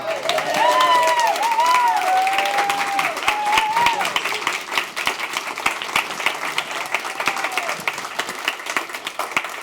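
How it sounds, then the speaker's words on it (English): Members of the audience at a co-op's annual member meeting applaud warmly. The clapping is steady and fills the room, and a few whoops and cheers rise over it in the first few seconds. "I would like you all to give a big round of applause to the person that all makes it happen, John."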